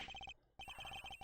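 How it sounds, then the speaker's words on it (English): A telephone rings in Ace Attorney Investigations, its bright electronic trill pulsing in quick repeated bursts, breaking off briefly before ringing again, clear and alone with no talk. "Agent Hicks's phone! It's ringing from somewhere"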